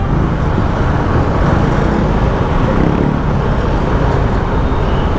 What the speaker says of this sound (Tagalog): Grabe traffic mga ka-towels.